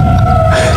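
Tornado siren test during a baseball game, a steady tonal wail carrying loudly over the field in a brief sustained stretch.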